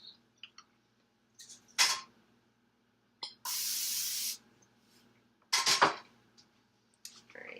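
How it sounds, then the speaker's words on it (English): Non-stick cooking spray hisses into a pan in a kitchen cooking demonstration for an egg, one steady burst of about a second, close and clear, set among scattered clicks and clatter of utensils. "first we're going to spray it with non-stick cooking spray"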